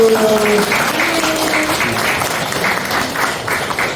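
A church congregation claps together during a Korean worship service, the sustained applause mingling with a voice and sustained musical tones at the start before fading slightly.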